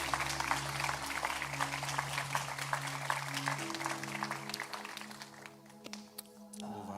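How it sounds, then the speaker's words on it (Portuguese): Church congregation applause rises as a dense patter of clapping over sustained organ or keyboard tones and faint voices, thinning out toward the end. "Aplauda Jesus."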